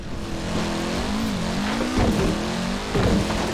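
A fast car engine drones at full speed in the Forza Horizon 4 racing game, alongside a Lancer and other rival cars. The pitch climbs and shifts steadily for several seconds over a rushing, rain-like hiss, with no talking.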